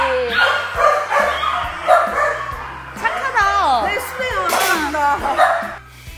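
A rescued stray dog barks and yips repeatedly while being handed treats, close and lively, with overlapping chatter and laughter from people nearby throughout.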